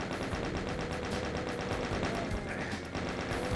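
Chain gun fire in the Doom Zero video game at The Testing Labs, a rapid unbroken stream of loud repeating shots lasting the whole few seconds.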